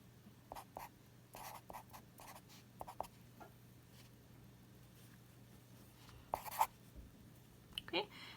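Pencil scratching out math on paper in short bursts, soft and close, with brief pauses between strokes and quiet background hum.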